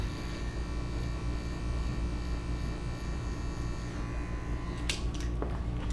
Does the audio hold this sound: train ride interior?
no